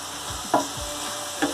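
Brinjal and potato fry in olive oil with a steady, soft sizzle, broken by two short scraping stirs of the pan.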